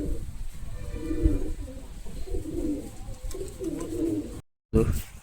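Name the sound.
pigeons cooing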